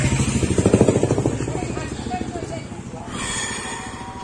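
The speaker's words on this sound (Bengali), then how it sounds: "খালি সামনে একটা বাইক আসছে" A motorbike approaches on a quiet road in Deoghar, its engine buzzing louder up close before fading, while a person talks nearby.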